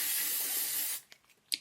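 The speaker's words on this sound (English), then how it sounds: "the 3 Second Setting Mist by L'Oreal Paris" L'Oreal Paris 3 Second Setting Mist sprayed onto a face in one steady, close hiss lasting about a second, followed by a few faint soft handling taps.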